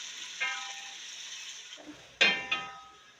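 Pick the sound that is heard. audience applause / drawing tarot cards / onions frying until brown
onions frying until brown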